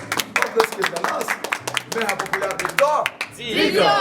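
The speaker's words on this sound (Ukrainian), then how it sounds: "Оплески для Ілони." Scattered audience clapping for Ilona at a comedy contest, uneven and sparse under ongoing talk and laughter, swelling briefly at the end.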